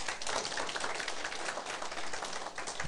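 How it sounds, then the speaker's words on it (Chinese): Audience at a Taiwanese political lecture clapping steadily, a dense even wash of many hands filling the whole stretch without a break. "拍手。"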